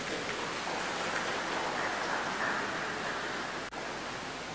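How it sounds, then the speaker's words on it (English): Steady rain pours down outside during an organ recital, a dense, even hiss with no break except one brief dip near the end, heard alone with no talking. "I'm sorry the rain is falling"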